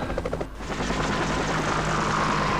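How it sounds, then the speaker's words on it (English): Helicopters in the Eurofighter EF2000 combat flight game, a steady loud rotor and engine drone with rhythmic blade chop at first, continuous throughout with no talking. "So we've got some helicopters as well."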